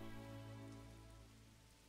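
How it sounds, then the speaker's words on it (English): Rainfall in the medieval city-building game Manor Lords, a steady soft patter layered over a low sustained musical drone, fairly quiet and fading slightly toward the end. "Rain again."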